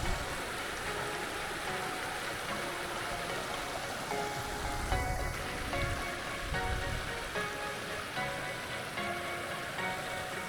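The Kinder River, a stream in the Peak District, flows in a faint, steady rush with no talk over it.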